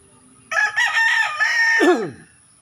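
A young stag rooster, about a year old, lets out a single close, loud crow lasting about a second and a half, its final note dropping off sharply into quiet.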